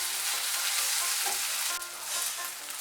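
Ginger paste sizzles and fries steadily in a pan and is stirred, with a loud continuous crackle and a few scraping strokes partway through, no talking.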